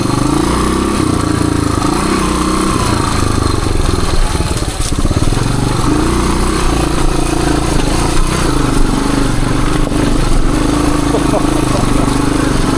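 A 1978 Suzuki DR370 dirt bike engine crawls slowly uphill on a trail, a steady close low rumble held throughout at near-idle throttle, loud and continuous, with a small bump around the middle.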